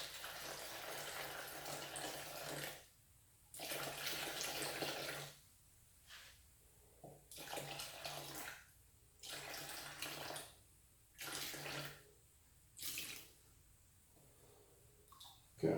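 Tap water pours into a bowl for bread dough in several separate bursts, each a few seconds of rushing flow with short silent gaps between, close and fairly quiet.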